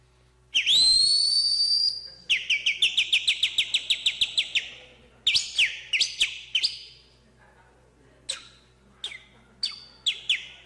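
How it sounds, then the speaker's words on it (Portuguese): A man whistles through his fingertips, compressing air for a shrill sliding call followed by rapid bursts of short sharp chirping whistles, loud and close with no talking. "eu assobiava, eu comprimia o ar e soltava na ponta do dedo"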